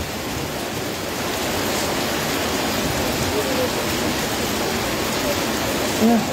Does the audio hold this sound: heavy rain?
yes